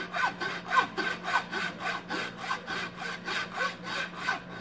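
A hand saw cuts through a deer's antler skull plate near the thick bone behind the eye socket, with about a dozen rhythmic rasping strokes, close and steady with no voices.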